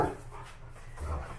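An indoor dog makes a soft bark and some panting during a casual chat stream, faint and brief against room noise.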